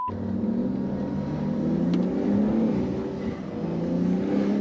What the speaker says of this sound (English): BMW go brrr